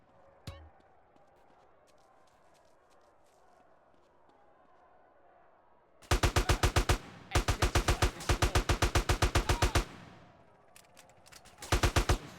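AK rifle fire in GTA San Andreas, long rapid bursts of automatic gunshots with short gaps between them, loud and close, following a quieter stretch of low game ambience.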